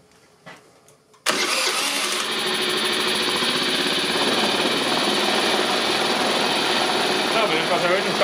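A Kymco Super8 4T scooter engine with a carburetor problem starts abruptly after a brief quiet moment and holds a steady, loud, buzzing raised idle close by for the rest of the clip.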